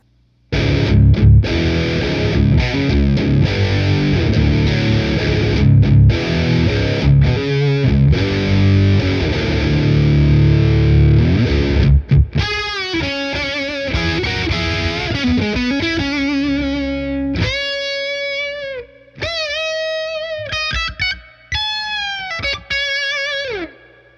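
An electric guitar played through a Universal Audio TwinFinity 710 preamp on its transistor side: dense, distorted chords ring out first, then the strums give way to single picked notes and bends that sustain and decay, with no voices.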